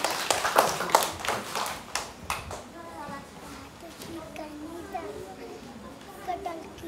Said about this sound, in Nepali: ल ताली बजा ताली ताली